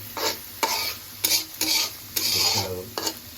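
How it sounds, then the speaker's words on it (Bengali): Garlic and chilli sizzle in a hot pan while a spoon scrapes and stirs in several sharp bursts, with steady frying hiss between the strokes. "মরিচ পরে দিব আমরা অল্প ভাজা ভাজা করলেই হবে"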